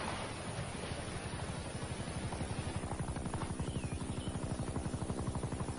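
A helicopter in a dubbed horror film passes as a steady broadband roar, with a rapid rotor throb that grows more distinct and rhythmic in the latter half, moderately loud and with no talk over it.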